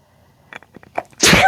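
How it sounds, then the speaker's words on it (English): A single loud, close sneeze bursts out after a few soft breathy intakes and brief vocal sounds as the person builds up to it. "I'm going to sneeze."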